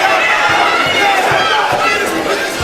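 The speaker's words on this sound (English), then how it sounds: "They're chanting T-Rex" A dense, steady roar from a boxing crowd chanting at a women's fight between Claressa Shields and Hanna Gabriels, with the chant's rhythm buried in the continuous arena noise.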